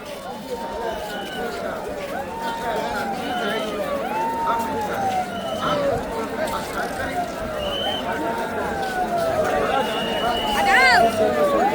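Huge night crowd at the Sangam in Prayagraj during the Mahakumbh: a dense wash of murmuring voices and footsteps, with repeated whistles and calls cutting through, while someone talks close over the din.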